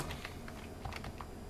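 Quick, light keystrokes on a computer keyboard clatter in a close, steady run, faint and alone with no voices.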